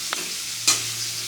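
Food frying in a pan: a short burst of sizzling broken by two quick stirring scrapes.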